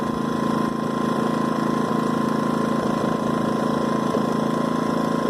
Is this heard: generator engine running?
yes